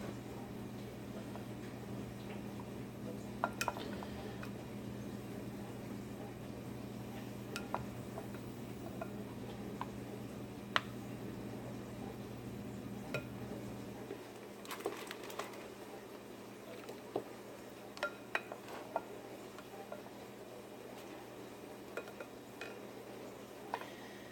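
A small spoon scooping ground beef among dishes for a taco soup, light scattered clinks and taps against dishware, faint and irregular over a low background hum.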